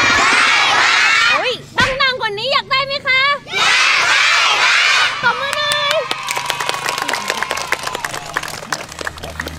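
A crowd of children shouting loudly together, eager to get pieces of roti. The loud bursts of massed young voices are followed by scattered sharp claps and excited chatter.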